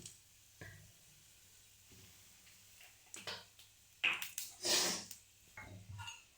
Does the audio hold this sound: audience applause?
no